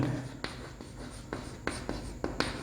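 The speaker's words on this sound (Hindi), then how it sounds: "तो मैं लिख देता हूँ केमिजॉर्प्शन" A teacher writes on a board during a chemistry lesson, producing quick rhythmic scratching strokes with sharp tap-like onsets, close and fairly loud, with no talking.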